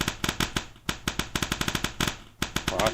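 Rockets firing in the video game Fractal Block World, a fast string of sharp, evenly spaced bursts that keep repeating at close range with a short gap near the end.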